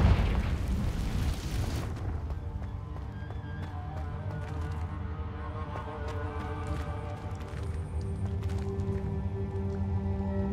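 A Confringo blasting spell in Hogwarts Legacy lets off a loud broad blast for about two seconds, then a low rumble trails off under soft game ambience and scattered small clicks.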